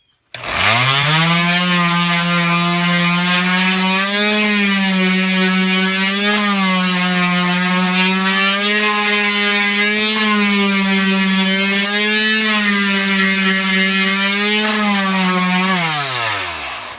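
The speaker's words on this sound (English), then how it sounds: "So I'm just going to sand it up" A power sander works a 1x6 wood board with a steady, droning motor whine that starts abruptly, holds evenly for about fifteen seconds with slight wavers, then winds down.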